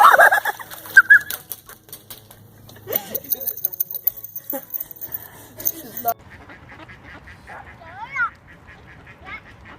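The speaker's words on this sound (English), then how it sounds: "She's scaring the ducks." Ducks give scattered quacks and calls at varying distances, mixed with bursts of background noise and brief voices.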